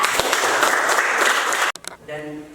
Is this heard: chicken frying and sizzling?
no